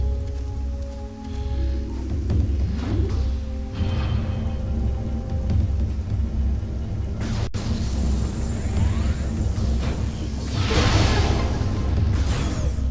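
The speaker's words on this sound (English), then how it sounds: "I certainly like the sight of a super missile explosion" Super missile blast in Metroid Prime 2, a loud rumbling boom with crackling debris over a steady low game hum, followed by a bright sweeping burst near the end.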